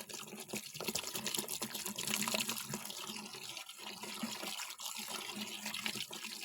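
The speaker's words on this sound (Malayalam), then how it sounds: "ഇനി ഇതിലേക്ക് നമുക്ക് തോർത്ത് മുങ്ങിക്കിടക്കാൻ മാത്രമുള്ള വെള്ളം ഒഴിച്ചു കൊടുക്കണം" Water pours and splashes steadily into a tub of towels soaking in bleaching powder, a continuous close liquid rush lasting several seconds with no talk.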